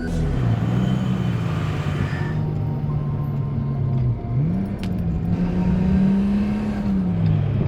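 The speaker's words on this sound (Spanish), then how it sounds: "Están llegando dos coches y nos vamos hacia Daikoku." Car engines running steadily in Shibuya, Tokyo, as two cars arrive, a loud low droning hum that rises and dips in pitch, close to the microphone and without talking, with a brief lull midway.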